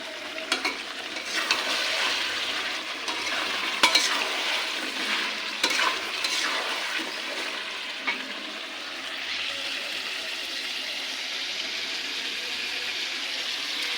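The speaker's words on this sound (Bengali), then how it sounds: "এখন ভালো করে কষিয়ে নিচ্ছি" Chicken fries with spices in a pan and gets stirred often, giving a continuous sizzle broken by scraping spoon strokes and a few clinks against the pan, with no voices.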